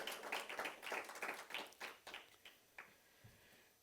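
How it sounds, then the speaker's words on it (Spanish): A church congregation claps loudly and briskly during a service, then the applause thins into a few scattered claps and fades out. "Dele un aplauso fuerte al Señor, a su Señor y Dios"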